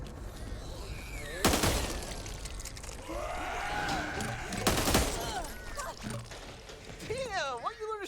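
Gunshots ring out in the video game Back 4 Blood: two sharp, loud blasts a few seconds apart over game ambience, while players talk throughout.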